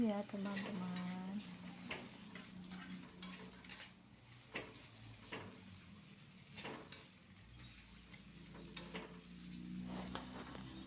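Green onions are stir-fried in a pan for a home-style tilapia dish, with a steady soft sizzle broken by repeated spatula scrapes and taps.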